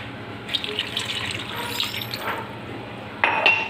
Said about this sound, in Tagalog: Dagdagan pa natin ng tubig.